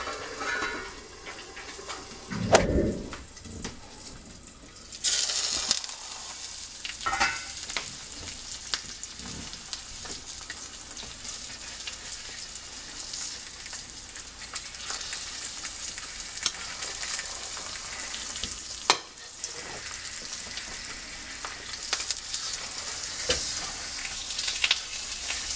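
An egg fries in a covered cast iron skillet with a continuous close sizzle and crackle, broken by a heavy clatter and bump early on and another brief knock later, with no talking.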